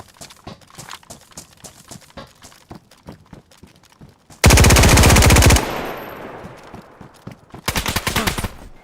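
Rapid automatic gunfire in the survival game DayZ, a long dense burst of shots, then a second burst after a pause, set against quieter clicks and footsteps.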